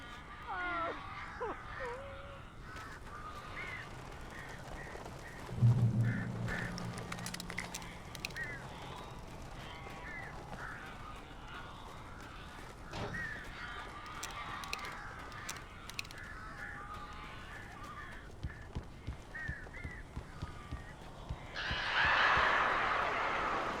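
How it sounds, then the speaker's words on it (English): Strange birds in the video game Alan Wake Remastered caw harshly at intervals, with a louder burst midway and another near the end, over a quiet, eerie background. "These birds are weird."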